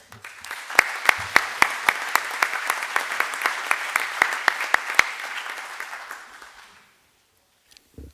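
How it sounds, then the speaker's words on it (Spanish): An audience at a legal conference claps steadily for several seconds with a few sharper hand smacks standing out, then the applause fades to silence. "Les pido, para quien pido un caluroso aplauso."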